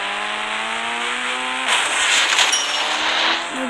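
A Bugatti car drives in a video game, a steady engine tone that shifts abruptly into a harsher, noisier roar partway through, loud and continuous with no talk.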